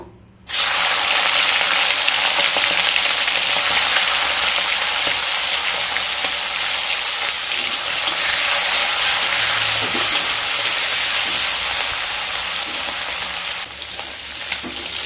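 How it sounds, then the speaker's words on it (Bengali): Prawns hit hot oil that was just used to fry potatoes and sizzle loudly and continuously. The close, hissing fry starts abruptly and stays strong and steady throughout. "এবার ওই তেলের মধ্যে চিংড়ি মাছগুলোকে দিয়ে ভেজে নেব।"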